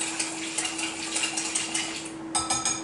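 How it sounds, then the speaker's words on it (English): Quick whisking of a tequila lime salad dressing in a bowl, a fast run of light metallic clinks and scrapes against the bowl, close and steady, with a brief pause before a few final taps. "Give it a quick whisk."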